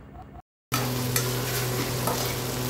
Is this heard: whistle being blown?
no